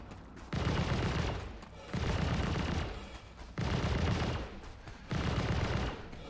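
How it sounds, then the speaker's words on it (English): Automatic turret gunfire in the Star Citizen video game: four long, steady bursts of rapid firing, each lasting about a second and a half, separated by short pauses, heard fairly distantly and with no talk over them. "Definitely sounds like it's still shooting"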